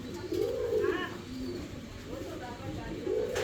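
Pigeons in a coop cooing in low, rolling, repeated calls, fairly close, with faint background noise and no talk over them.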